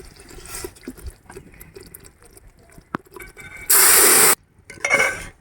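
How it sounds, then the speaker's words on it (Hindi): Prepared sugar syrup poured into roasted semolina for suji halwa, a brief loud sizzling, splashing rush lasting under a second, set among quieter kitchen sounds and faint talk. "इसमें शामिल करेंगे तैयार की हुई चाशनी"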